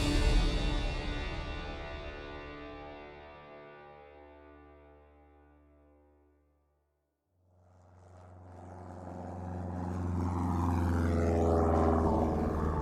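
An airplane passing as a sound effect, a droning propeller-like roar that fades away into near silence and then swells back up, growing loud and distorted with a swirling, phased quality.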